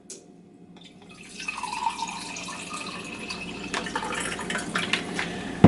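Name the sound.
pouring Dragonfire punch into a highball glass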